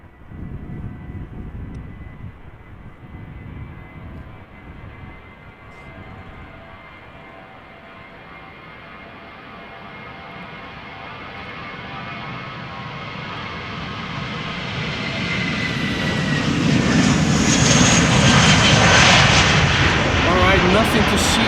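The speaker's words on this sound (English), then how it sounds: "Vueling flight 8303 to Barcelona first. Airbus A320-200, 8-year-old airplane. On the move." A Vueling Airbus A320-200 jet at Amsterdam Schiphol moves closer, its engine noise starting faint under a talking voice and swelling into a loud, whining roar by the end.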